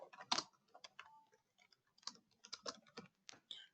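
Someone types a comment on a computer keyboard, a quick irregular run of light key clicks, close and quiet, with no voices.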